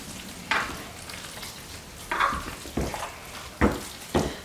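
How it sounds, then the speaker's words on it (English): Pumpkin pie ingredients stirred in a dish, heard as a handful of separate scraping, swishing strokes spaced about a second apart, close and moderately loud with no talking. "Stir this all up."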